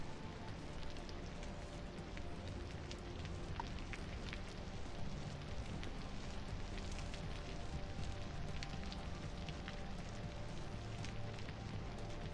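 Steady rainfall in the Vintage Story game, a dense, even hiss of drops on surfaces running unbroken throughout with faint crackles mixed in, no voices.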